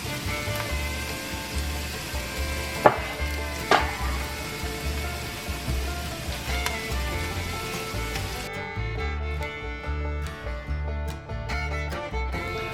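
Food sizzles and fries steadily in olive oil in a pan, a continuous close crackle with a couple of sharper pops early on that thins out toward the end.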